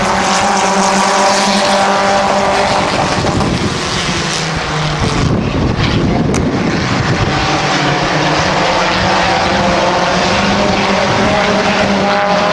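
Race cars roar around Midvale Speedway in a dense, continuous engine drone that swells and shifts as cars pass close by, loud and unbroken throughout.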